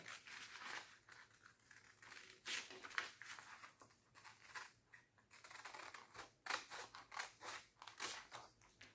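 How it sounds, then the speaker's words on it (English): Scissors snip through paper for an origami box, a rapid run of crisp close cuts and rustles in quick uneven bursts, quiet and without talking. "I'm just using a scissor"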